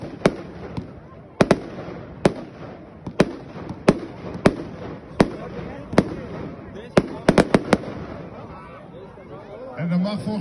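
Wicked Warlord consumer fireworks are set off at an outdoor demo show, a series of sharp cracking bangs at irregular intervals, some in quick clusters, with a crowd talking and murmuring underneath.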